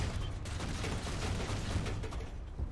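Tank gunfire in War Thunder, a Panzer II DAK in battle with a T-70 firing back, heard as a dense, continuous rumbling barrage of distant shots.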